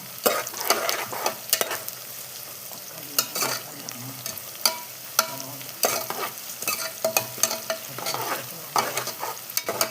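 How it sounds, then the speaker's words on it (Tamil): Onions, green chillies and curry leaves frying in a pan for Chennai-style paneer biryani, a continuous sizzle broken by frequent scraping strokes of a spoon, close and lively with no talking. "வெங்காயம் நல்லா பொன்னிறமாக வதங்கட்டோங்க."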